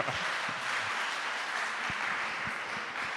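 A church congregation at a Pleine Vie Sunday worship service applauds steadily, a dense even wash of many hands clapping for a few seconds, moderately distant and fairly soft, with no talking over it.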